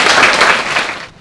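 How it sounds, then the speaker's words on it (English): Audience applause for young beginner performers at a school of music and arts concert, a close, full round of clapping that tapers off toward the end. "Please give these my first beginners a big round of applause."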